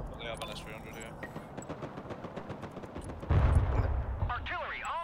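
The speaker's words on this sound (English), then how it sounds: "Oh crap, the firing artillery at me." Artillery fires in the Broken Arrow war game, steady rumbling volleys and gunfire under a busy battle mix that swells into a heavier blast near the end, with a voice talking over it.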